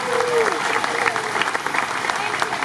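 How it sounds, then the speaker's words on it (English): Crowd applause on a town green at a Fourth of July gathering, a loud, steady clapping from a nearby audience filling the short moment, with a brief tonal sound early on. "I must give a round of applause, a loud round of applause for Leslie Bensley"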